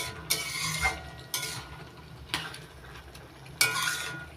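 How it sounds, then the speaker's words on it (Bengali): Hot water stirred into a bottle gourd and shrimp curry in a pan: a spoon scrapes and swishes in four evenly spaced strokes about a second apart, close up, with no talking. "গরম জলটা দিয়ে এবার নাড়াচাড়া করে দিচ্ছি একটু"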